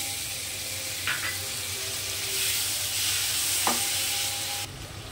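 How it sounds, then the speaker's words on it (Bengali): Prawns seasoned with turmeric sizzle and crackle in a hot frying pan, a steady close hiss broken by a few scraping stirring clicks of a utensil against the pan. "চিংড়ি মাছ কাটা ভেজে নেব"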